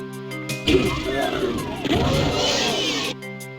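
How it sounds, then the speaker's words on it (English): The Spider Mastermind from the video game Doom lets out a loud, harsh, distorted screech lasting about two and a half seconds, with sweeping tones rising and falling over a grinding roar, heard alone over a low steady hum. "One of the first things you'll hear is the mating call of the Spider Mastermind."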